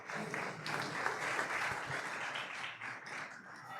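An audience applauds at a conference event, a steady wash of clapping that stays even and fairly quiet for a few seconds with no talk over it.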